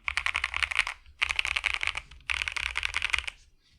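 Bursts of rapid clacky keystrokes on a foam-filled Monsgeek M2 budget mechanical keyboard, three flurries of typing separated by short pauses, close and clear with no talking.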